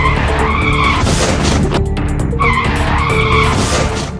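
A speeding motorcycle skids on a road in Jaunpur, Uttar Pradesh, before a crash with an oncoming Bolero, giving loud, close tyre squeals in repeated screeching bursts over a steady engine roar.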